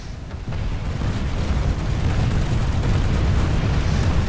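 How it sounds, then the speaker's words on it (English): Slow explosion of the sun in the game Planetside 2, heard as a loud, continuous low rumbling roar that swells after a soft start and holds steady without breaks. "Oh, the sun's blowing up. It's an incredibly slow explosion."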